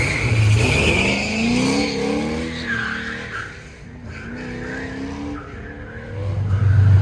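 A 1972 Chevrolet Corvette with a 355 or 400 cubic inch V8 races an autocross course, its tires squealing in long, rising and falling howls over a loud, steady engine roar close by.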